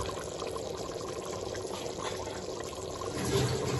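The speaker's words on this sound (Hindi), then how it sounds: "अब इसमें हम डालेंगे नींबू का रस।" Lemon juice is poured into mutton matar keema in a pan, a soft, close liquid trickle and splash over a low kitchen background, growing a little louder near the end.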